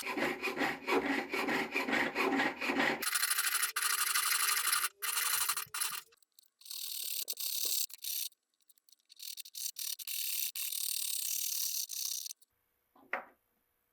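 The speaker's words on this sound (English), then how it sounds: "I'm just going to use some needle files to clean up that seam and make it blend together" Needle files work the seam of a handmade silver spoon in a jewelry studio, loud close rasping strokes in rapid rhythmic passes, broken by brief pauses between bursts of filing.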